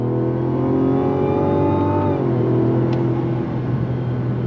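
A Mazda CX-90 SUV accelerating on throttle, its engine droning loud and close, pitch climbing and then dropping sharply at a quick shift before pulling again.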